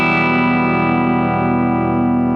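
An electric guitar rings out with a full chord across all strings, heavily distorted and sustained at a steady loud level, with no voices over it.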